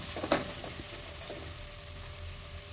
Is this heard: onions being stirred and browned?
yes